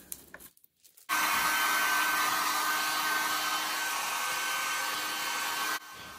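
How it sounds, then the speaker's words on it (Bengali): A hair dryer blows hot air onto plastic film stretched over a window, switching on after a second of soft handling noise and running as a steady, close, loud whoosh before cutting off. "হেয়ার ড্রায়ার দিয়ে গরম হাওয়াটা দেওয়া হচ্ছে যাতে ওই প্লাস্টিকের মধ্যে কোনো রিঙ্কেল না থাকে"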